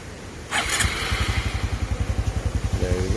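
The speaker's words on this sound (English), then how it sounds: "So let's start the bike up." A 2023 Honda CT125 Cub Hunter motorcycle engine starts with a brief starter whirr, then settles into a close, steady, evenly pulsing idle.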